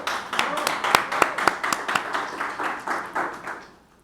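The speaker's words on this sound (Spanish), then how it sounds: "Fuerte el aplauso." Audience clapping at a live talk event, a dense, steady burst of applause with a few sharp individual claps standing out, fading away over the last second.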